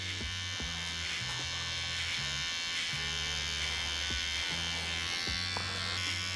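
A Rebel electric beard trimmer buzzes steadily and close up as it trims the top of a bushy beard at the temple, its hum cutting in and out in short bursts with brief pauses between passes.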